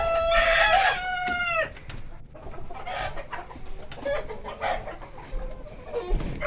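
A rooster crows loudly and close at the start, then several chickens cluck and chatter in an uneven run of short calls inside a poultry housing setup.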